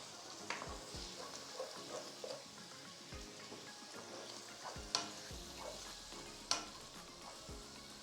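Onion and spices frying in a pan with a steady broad sizzle, broken by several sharp stirring clacks of a spoon against the pan, with no one talking.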